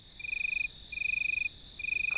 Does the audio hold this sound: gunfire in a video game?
no